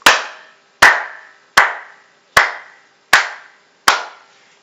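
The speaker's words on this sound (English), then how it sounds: "Let's clap for us." Six loud, sharp claps at an even, slow beat, each with a short ringing tail, clapping for a class group.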